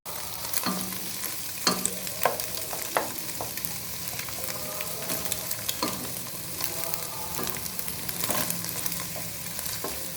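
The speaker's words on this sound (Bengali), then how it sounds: "তেল গরম হয়ে গেলে আমি তাতে ডিম স্ক্রাম্বল করে নিচ্ছি।" Eggs being scrambled in hot oil in a pan sizzle steadily at close range, punctuated by repeated sharp scrapes and taps of a spatula against the pan; no talking.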